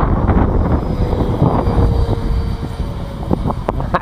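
An electric ducted fan model aircraft flies at a club field on a grey, windy day, a steady whooshing whine with wind buffeting, fairly loud and near, with no voices.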